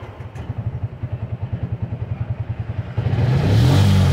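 A TVS motorcycle engine with an acceleration-missing fault idles with a steady chugging putter, then revs up louder and rougher toward the end, close by.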